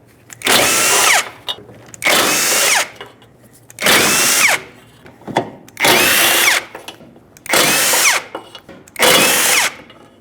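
A power tool, likely an impact driver, removes 12mm mounting bolts behind a 2006-2011 Honda Civic rear bumper: six loud, close bursts of whirring, each about a second long, separated by short quiet gaps and small clicks.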